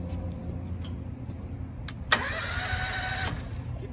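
A Honda GX630 small engine with the choke on is pulled over with a few faint clicks, then catches with a sharp burst and runs at a loud, steady mid-pitched roar for about a second before it cuts back. No speech is heard.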